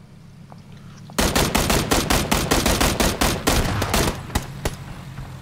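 Rapid bursts of PlayerUnknown's Battlegrounds gunfire begin suddenly after a quiet start, sharp repeated shots in uneven volleys, loud and close.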